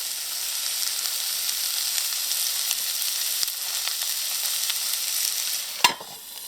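Potato sauté pieces frying under a lid in a covered pan, a steady close sizzle and hiss that runs evenly throughout, ending with a sharp clank of metal.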